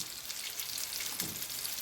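Steady crackling sizzle of battered fish frying in hot oil in a pan, dense and continuous, with no voices.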